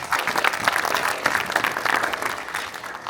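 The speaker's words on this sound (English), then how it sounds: "Let's give them one more round of applause." Applause from the crowd at a Long Island Red Cross volunteer recognition event, honoring the volunteers with a brief, steady round of clapping heard up close and nearly free of speech.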